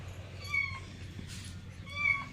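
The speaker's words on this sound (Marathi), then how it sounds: "हे अशा प्रकारे मांजर आहे." A cat meows twice indoors, two clear, drawn-out cries about a second and a half apart, close and fairly quiet over a low steady hum.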